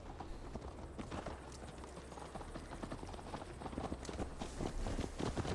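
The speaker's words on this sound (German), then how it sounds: "Steig auf, Eivor. Es ist ein langer Ritt bis nach Tamevjord" Horse hooves clip-clop steadily as a rider travels in Assassin's Creed Valhalla, a continuous close hoofbeat rhythm over a wash of ambient game noise.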